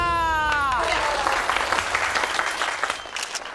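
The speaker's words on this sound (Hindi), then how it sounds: "तालियां।" Applause on a Hindi comedy-drama set, a scattered burst of hand claps rising after a sung or held note fades out, fairly dense and continuous, with crowd noise beneath and voices mixed in.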